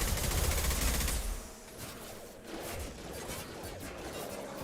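Gunfire in the video game Mass Effect 2, a dense, loud barrage of shots blending into continuous roaring bursts with crashing impacts, filling the whole moment without pause.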